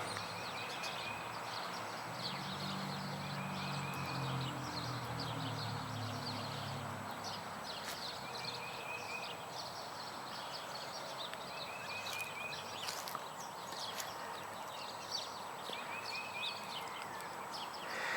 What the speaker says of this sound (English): I'll be quiet a minute so you can hear the birds chirping.